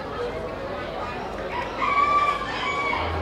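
A Belgian bantam rooster at an agricultural show crows once clearly and fairly close over a busy background of other fowl clucking and crowing.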